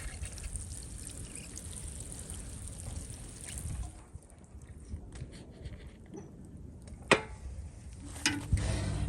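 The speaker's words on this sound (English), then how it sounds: "And I'm going to come back and water that as well." Water pouring onto soil around a newly planted bare root clematis, a steady splashing trickle that breaks off halfway, followed by a few faint knocks and handling noises.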